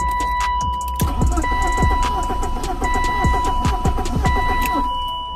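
A car engine cranked with the clutch in, repeated starter whirring and chugging bursts that fail to catch, close and fairly loud over a steady electronic tone.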